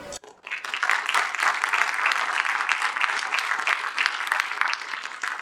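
An audience at a youth entrepreneurship competition breaks into steady, sustained applause, many hands clapping together at an even level throughout, with faint voices mixed in.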